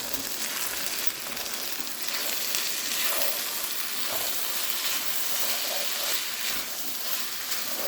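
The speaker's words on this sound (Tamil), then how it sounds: "அதையும் இதுக்குள்ள கொட்டி பிரட்டினா பிரியாணி ரெடி." Cooked rice being turned over in a pan of frying biryani masala, with a steady loud sizzle and occasional scraping stirs throughout.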